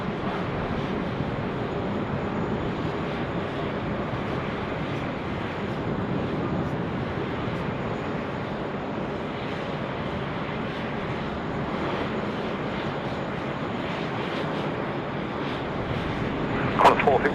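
A Rex aircraft lands on runway 16 right at Sydney Airport in an 18-knot wind: a steady, loud broadband engine roar holds for the whole stretch, with faint voice chatter underneath.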